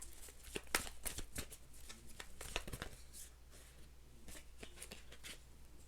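Tarot cards are shuffled up close, giving a dense run of crisp riffling slaps and soft sliding rustles with uneven bursts that go on steadily and quietly, with no talk over them.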